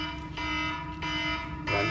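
A mobile phone alarm set for six in the morning rings loudly and continuously, a steady electronic buzzing tone with slight pulsing surges and no talking over it.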